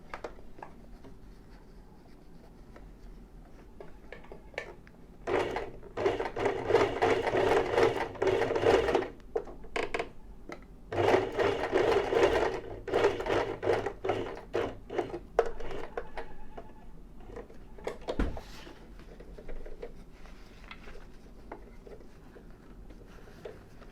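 Sewing machine stitching the small bound edge of a shirt collar, running in two sustained bursts with quieter pauses and a brief stop between them, close and fairly loud.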